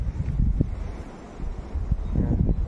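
Strong typhoon wind in Banton, Romblon, Philippines, buffeting the microphone in low, rumbling gusts that swell, dip briefly, then rise again.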